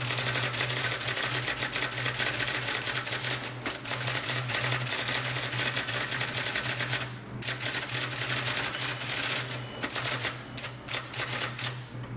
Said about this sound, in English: and we'll do a little bit of typing.